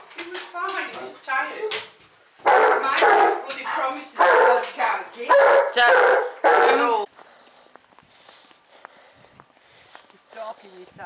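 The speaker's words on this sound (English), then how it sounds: "As you guys can tell, he is barking." An elderly eleven-year-old dog that was unwell barks in several loud, close bursts while out on a walk, then settles into quieter whimpers and shuffling.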